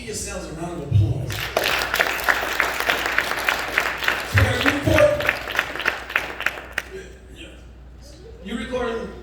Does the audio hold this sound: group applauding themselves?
yes